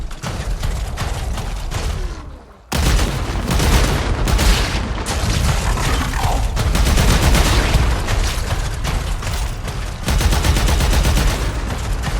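Loud, sustained rapid gunfire from a weapon in the video game Warframe, a dense continuous burst of shots and booms with a brief pause near the start, then unbroken fire.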